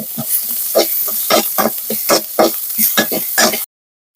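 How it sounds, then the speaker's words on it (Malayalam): Chopped cassia (thavara) leaves sizzle and frying in a hot pan while being stirred, giving a steady close crackle broken by repeated scraping strokes of a spoon for several seconds. "ഇതിന്റെ പച്ച മണം മാറാൻ വേണ്ടിയിട്ട് ഇളക്കുന്ന ഇങ്ങനെ"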